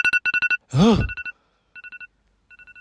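A mobile phone alarm goes off in bursts of rapid electronic beeps, with a brief startled vocal sound cutting in between the beeping.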